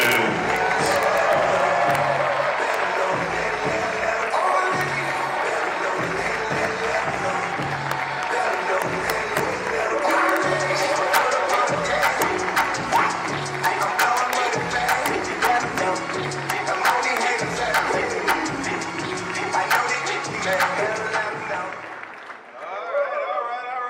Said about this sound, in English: please stand to your feet and give a rousing round of applause for the 61st Mayor of the City of Atlanta